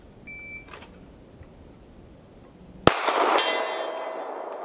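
An electronic shot timer at an outdoor pistol range gives a single short, thin beep, followed a couple of seconds later by a sharp, loud pistol shot that rings out.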